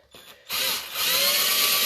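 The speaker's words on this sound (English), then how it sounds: "drill right through." Power drill boring holes through old metal keys: a short whir first, then a loud, steady high grinding whine as the bit bites through, close by and uninterrupted, no talking.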